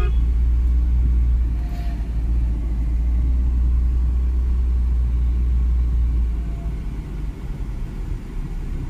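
A car's engine rumbles low and steady from inside the cabin while driving slowly on a road, a continuous close drone with no talking over it.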